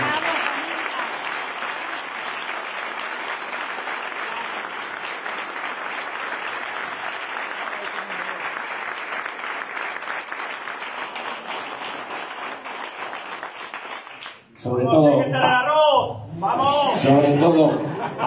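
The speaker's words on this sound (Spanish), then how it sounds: "Pido un fuerte aplauso para ellos" Sustained audience applause at a local gathering in Medina del Campo, a steady wash of clapping for about fourteen seconds before a voice speaks over the tail end.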